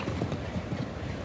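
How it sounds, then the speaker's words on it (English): A show jumping horse's hooves clop on the ground at the 1985 Cincinnati Grand Prix, a few quick, uneven thuds over a steady crowd and arena background. "Leapy's a big, strong horse and should be able to handle it."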